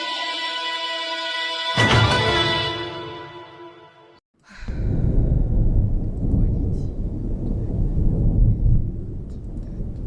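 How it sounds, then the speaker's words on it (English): A supercell thunderstorm off a northwest coast: after a tonal electronic alert, a loud thunder crack breaks in, then a brief hush gives way to a sustained low rumble and rain-like wash that continues to the end. "A supercell thunderstorm has developed off the northwest coast."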